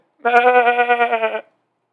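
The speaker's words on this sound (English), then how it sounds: "It's a goat, bro." A goat gives one loud, close, sustained bleat lasting about a second, wavering slightly in pitch, with silence on either side.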